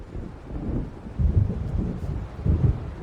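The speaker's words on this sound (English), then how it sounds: "It seems there's a storm coming." Deep thunder rumbles through an approaching storm in the video game Alan Wake Remastered, rolling continuously with two heavier swells over a steady bed of wind and rain noise, with no talking.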